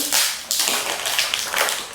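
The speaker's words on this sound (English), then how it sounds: "Let's open up this wrapping." Close, crisp crinkling and tearing of packaging as wrapping is pulled off a sturdy, heavy Amouage perfume box, in several quick bursts with no voices.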